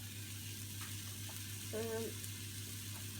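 Roasted vegetable curry in a pan over low gas, a quiet continuous sizzle with a low hum beneath and a brief tonal scrape midway.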